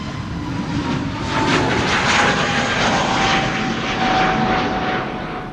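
An aircraft departs loudly from Amsterdam Schiphol Airport, its engine roar close and strong, rising and holding steady for several seconds with no talk.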